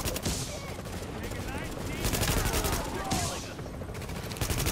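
Rapid gunfire from The Division video game crackles in dense bursts, a fusillade of loud shots layered over busy game sound, with faint voices mixed underneath.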